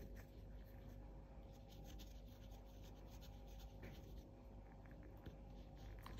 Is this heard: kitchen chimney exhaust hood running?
no